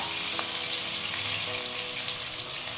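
Onion, garlic and ginger paste frying in oil for a pangas fish curry, a steady close sizzle with faint stirring scrapes running throughout.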